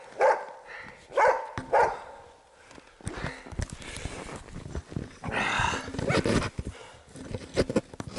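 A hunting dog on a sable hunt in Yakutia barks outdoors in a few sharp, spaced barks at first, followed by rustling, footsteps and handling noises.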